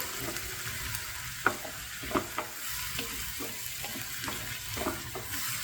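Onions and paste frying in a pan for drumstick masala gravy, a soft continuous sizzle with irregular scraping stirs and light spoon taps, fairly quiet and without speech.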